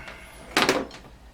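A creaky chair shifts under someone's weight at a test bench, giving one short, fairly loud creak-and-knock in an otherwise quiet room.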